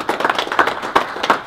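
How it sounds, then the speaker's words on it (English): Scattered claps from a small group at a police press conference on a serial killer arrest, close and uneven, lasting just over a second with no talk. "Let's give him a round of applause."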